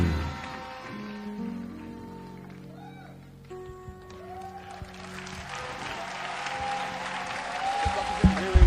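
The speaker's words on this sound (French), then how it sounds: "I say clap for Jesus" A church congregation in Cotonou, Benin clapping for Jesus, applause swelling from quiet to a loud, dense burst in the second half, following musical tones and a preacher's voice.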